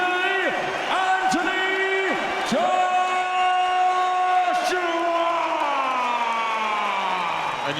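Boxing crowd in Liverpool roars and whoops after Anthony Joshua's TKO win over Michael Sprott, a loud, sustained wall of cheering with sharp shouts, a ring announcer's long drawn-out call sounding over the top.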